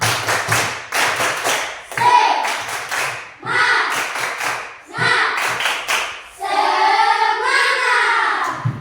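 A classroom group claps a rhythmic spirit chant in quick bursts of sharp, loud hand claps, with short pauses between patterns and voices chanting along near the end.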